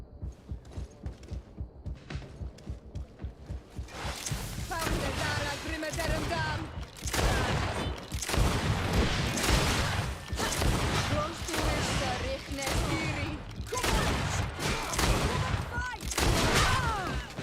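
Gunshots in the fantasy role-playing game GreedFall, a rapid ticking series at first, then loud repeated shots and clashing combat noise continuing over several seconds with voices talking between them.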